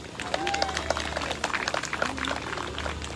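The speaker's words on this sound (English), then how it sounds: "Give yourselves a round of applause." A graduation ceremony crowd applauds for the class of 2020 with dense, irregular clapping that holds steady throughout, while a voice talks over it.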